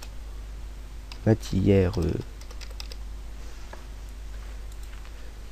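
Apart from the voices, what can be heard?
typing text on a computer keyboard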